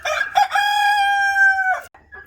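A rooster crows once in a chicken pen, a single loud, close, drawn-out cock-a-doodle-doo lasting over a second, followed by a few short clucks.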